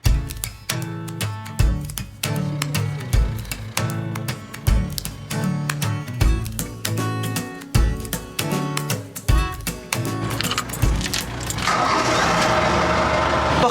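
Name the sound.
narrowboat engine starting and rumbling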